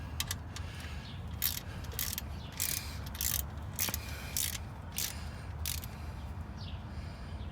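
Ratchet wrench snugging alternator bolts on a 2015 Infiniti Q50 3.7L VQ engine, a series of short clicking ratchet bursts in uneven rhythm, heard close and fairly quiet with no talking.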